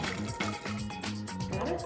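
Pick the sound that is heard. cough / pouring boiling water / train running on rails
pouring boiling water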